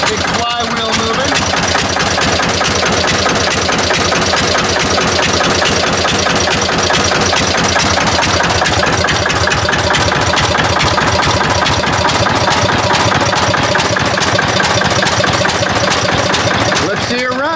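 An old engine with a big flywheel runs at a steady pulsing beat, loud and close, its rhythmic thumps continuing throughout with voices talking over it.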